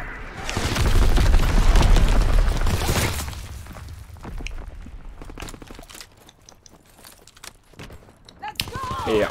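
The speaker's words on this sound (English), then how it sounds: "Enemy mortar fire incoming." Enemy mortar fire in a WW2 video game: a long, loud, rumbling explosion roars for several seconds, then fades into scattered crackles, thuds and smaller bangs.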